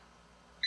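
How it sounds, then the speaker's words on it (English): An air fryer signals the end of cooking with a sudden clear electronic beep right at the end of an otherwise quiet stretch of faint room hum. "It beeps. So see, it lets you know, okay, I'm done."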